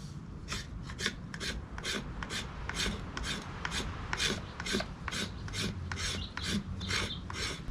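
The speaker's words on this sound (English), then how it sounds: "I'm just going to use the spine to scrape off some fat wood" The spine of a camp knife scrapes fat wood in quick, rhythmic rasping strokes, about two per second, close up and steady with no talking.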